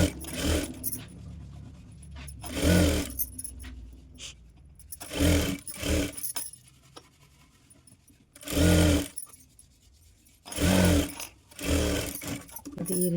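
A sewing machine runs in several short bursts as it stitches the back side of a designer back-neck blouse, each run lasting about a second with quiet pauses and handling sounds between them.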